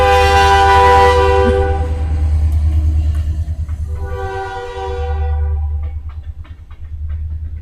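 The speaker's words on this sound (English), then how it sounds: "Sorry if you can hear a train." A train passes close by, its loud horn sounding in long blasts over a heavy low rumble of rail cars, then the rumble continues as the wagons roll on.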